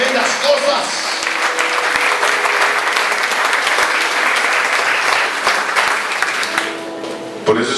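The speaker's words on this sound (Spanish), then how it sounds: "Dale ese fuerte aplauso al Rey de Reyes" A church congregation breaks into loud, sustained applause during a worship service, many hands clapping together for several seconds before it tapers off, with voices mixed in.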